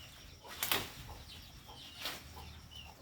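On a farm during heavy rain, chickens give faint, distant clucks and a rooster-like call, with a brief flutter over a steady wet background.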